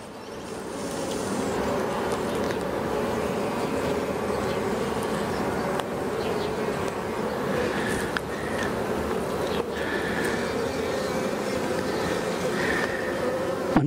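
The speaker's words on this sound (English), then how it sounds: "There's a cluster of bees here." Cluster of honey bees on a hive frame buzzing in a dense, continuous hum close by, steady throughout with small shifts in pitch as individual bees move.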